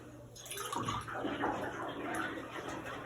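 Water splashes and trickles as it is poured into the reservoir of a clinic autoclave, a steady close gurgling flow with faint dripping, fairly quiet and with no talking.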